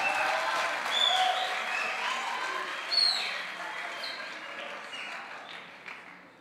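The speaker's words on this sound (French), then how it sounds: "Je vous félicite, vous pouvez les applaudir." An audience applauds speakers at a talk on combating antisemitism and islamophobia in Europe, a steady dense clapping that holds at full strength and then gradually thins out near the end.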